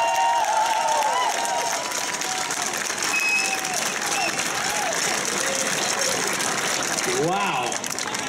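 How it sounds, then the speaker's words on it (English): A crowd at a Portland mayoral press conference applauds steadily and fairly loudly for several seconds, with a few faint cheers and whistles rising over the dense clapping. "give him a warm round of applause"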